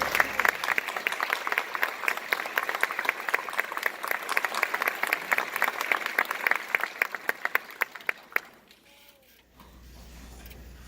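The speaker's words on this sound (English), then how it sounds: "So one last round of applause as he leaves." Graduation ceremony audience gives a round of applause as the Lieutenant Governor departs, crisp clapping that starts strong, gradually thins to scattered claps and stops, leaving a quiet room.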